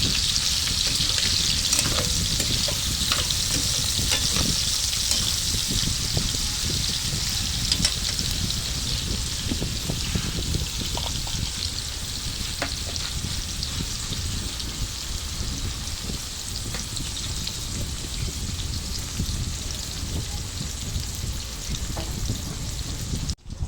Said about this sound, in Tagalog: naprito na yung patatas at erot